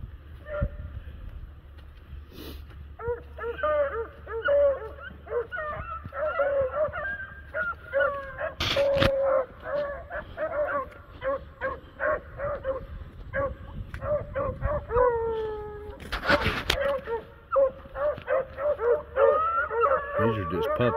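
Several puppies bark, yip and whimper close by in a rapid, overlapping jumble of high squeaky cries and short yelps that runs continuously, with a few sharper bursts standing out.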